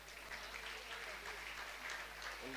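An audience at a religious discourse gathering in Gunayatan, Shikharji, applauds in a dense, continuous patter of many hands, fairly faint and with no voices over it.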